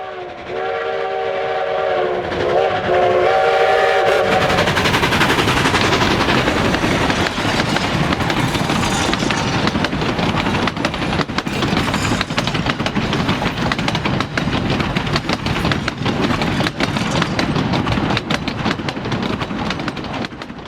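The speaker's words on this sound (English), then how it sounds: "The daily train whips along through Oxbow Park before heading into the Hermosa Valley." A coal-fired steam train, locomotive 481 of the Durango and Silverton, rumbles loudly past close by, opening with a sustained horn blast, then a continuous heavy roar and clatter of wheels.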